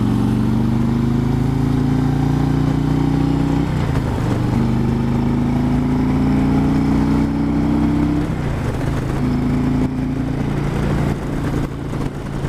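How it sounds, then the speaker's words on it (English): A 2018 Harley-Davidson Road Glide Ultra's engine pulls hard on a ride, its steady loud drone rising in pitch through three long gear pulls with brief drops at each shift, under rushing wind. "That engine's not even struggling to get to 70 miles an hour."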